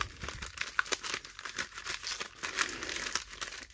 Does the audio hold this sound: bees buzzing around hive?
no